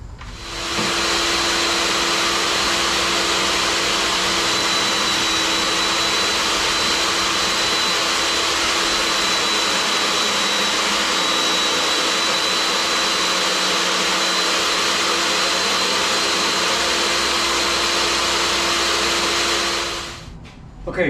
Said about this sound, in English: I just set the table saw blade up just a little bit so it just takes a smidge of material off